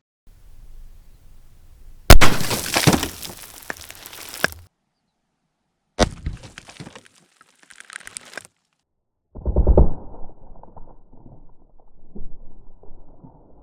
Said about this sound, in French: Bon, sans surprise, la première bouteille est complètement éclatée.